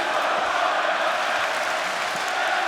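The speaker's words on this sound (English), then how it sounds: "Crowd loving this environment, this atmosphere" A large arena crowd roars in a steady, dense wash of cheering at an AEW world title wrestling match between Swerve Strickland and Bryan Danielson, sustained and loud with no break.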